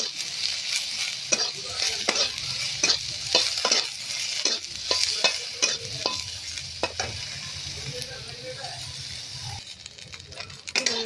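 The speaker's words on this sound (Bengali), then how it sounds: "তো এই সোয়াবিনগুলো একটু ভেজে নিচ্ছি" Soybeans sizzle in hot oil as a spoon stirs them, producing a rhythmic series of scraping knocks over a continuous frying hiss.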